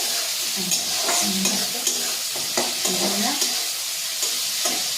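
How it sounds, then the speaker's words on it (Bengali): Native prawns fry in a pan with a steady, close sizzle, while a spatula stirs them in regular scraping strokes, roughly one every half second, with no voices. "চিংড়ি মাছটা ভাজা হবে। এটা দেশি চিংড়ি"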